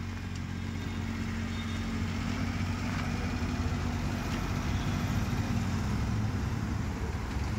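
A car's engine runs at a steady low idle-like hum while reversing slowly during a driving lesson, close and continuous throughout.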